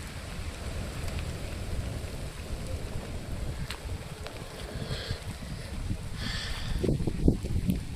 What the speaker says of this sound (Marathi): पाऊस जोरात येतोय.